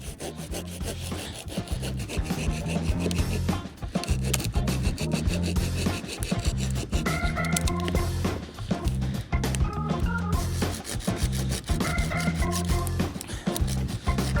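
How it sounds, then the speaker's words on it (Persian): A hand saw cuts through wood in a forest while an emergency shelter is built, with steady back-and-forth rasping strokes, loud and close, in a regular rhythm throughout. "بچه‌ها اینجا رو من دارم با اره میزنم که صاف بشه"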